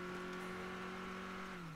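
A car squealing while driving in State of Decay 2: a continuous engine drone with a high, steady whining tone on top, quiet and even, its pitch sagging slightly at the end.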